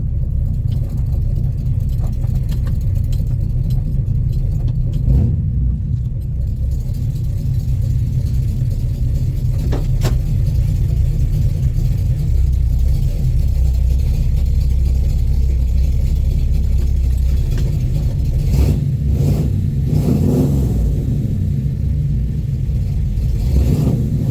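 A 1970 Chevrolet Chevelle engine rumbles loudly and steadily, a deep low drone that swells as the car passes close by outdoors.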